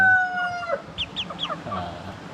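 Chickens on a countryside farm make a short burst of clucks, with a rooster crow at the start, all close and fairly loud over a faint background.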